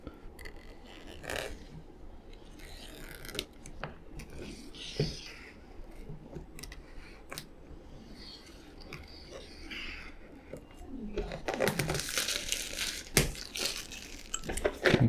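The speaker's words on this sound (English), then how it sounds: "let's start to cut the wrapper open" Wrapper of a boxed Parks Memories Mountain Set being cut open, with scattered crinkling, crunching and scraping of plastic film close by, building to a louder run of tearing and crumpling near the end.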